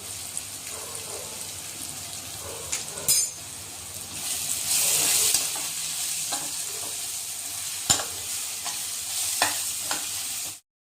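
Turmeric and coriander powder hit a hot oil tempering for poha, giving a close, continuous sizzle with bursts of crackle and a few sharp spoon taps against the pan before it stops abruptly.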